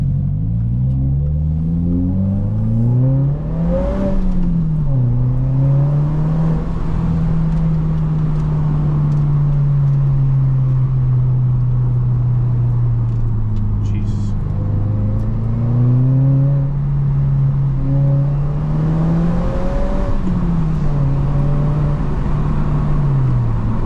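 A 2023 Subaru WRX making 300 wheel horsepower accelerates through a tunnel, its engine note climbing and falling through the gears, then holding a steady loud drone with another rev surge near the end, heard from inside the car.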